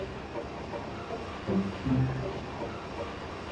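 A train in Final Fantasy VIII rumbles along with a steady low mechanical drone and faint hiss, swelling slightly midway, with no speech.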